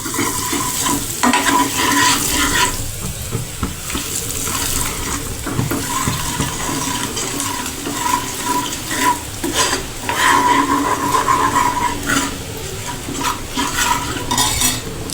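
Garlic chili paste being stirred into hot oil in a pan, a steady sizzle with scraping and clinking of the spoon running continuously and loudly throughout, no voices.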